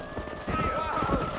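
Horses' hooves clip-clop in the Western video game Red Dead Redemption, a quick rhythmic patter with a brief whinny, close and steady under a voice speaking.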